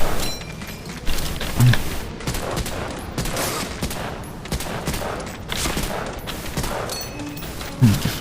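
Rapid video game gunfire rattles in dense, overlapping bursts as a player shoots out lights, loud and continuous with sharp cracks throughout.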